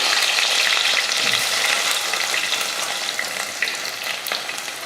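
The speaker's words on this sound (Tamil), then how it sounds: "எண்ணெய் காஞ்சதுமே கொஞ்சம் வெந்தயம் வெந்தயம் பொரிஞ்சதும் கருவேப்பிலை" Fenugreek seeds and curry leaves fry in hot oil for a fish curry, a loud dense crackling sizzle that runs steadily throughout and eases slightly toward the end.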